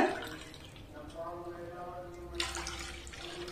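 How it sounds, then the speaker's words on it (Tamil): Three cups of water run and splash into a metal pan for kesari, a steady stream that grows louder and more spattery toward the end, close by with no voices. "அந்த பாத்திரத்துக்கு 3 கப்பு தண்ணி சேர்த்துக்கோங்க"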